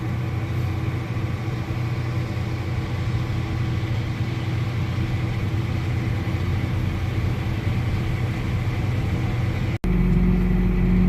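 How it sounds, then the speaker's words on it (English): A combine harvester finishing the year's harvest drones steadily close by, a constant low engine rumble that holds through the whole stretch and then shifts deeper near the end. "I'll film the combine driving by us this time."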